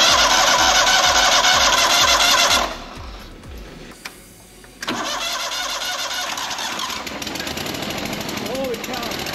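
A Kohler CH25S twin-cylinder engine on a Grasshopper zero-turn mower, just rebuilt, cranks with rapid rhythmic pulses, cuts out briefly, then catches and runs steadily at a loud, close idle.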